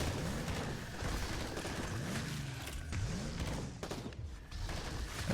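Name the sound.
fireball attack from Galavax in video game Zerspace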